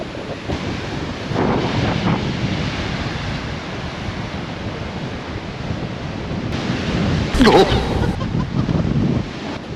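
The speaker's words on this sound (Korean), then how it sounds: "여기 바람 엄청 분다." Strong wind gusting at a seaside lighthouse on the coast, a steady broadband roar of wind buffeting the microphone with surf beneath, rising in a loud gust near the end.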